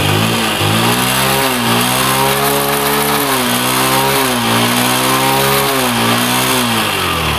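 A Bajaj Boxer 100cc motorcycle engine idles loud and close, its steady putter rising and falling in a regular series of gentle revs throughout, with no talk over it.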